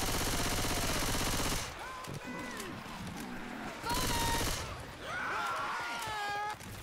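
Video game gunfire crackles in repeated bursts, dense and steady at first, then in shorter volleys mixed with whistling tonal effects and other game sounds, fairly faint overall.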